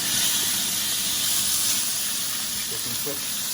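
A steak sears in a smoking-hot oiled pan for lomo saltado, producing a loud, continuous hiss that fills the moment, with faint background voices underneath.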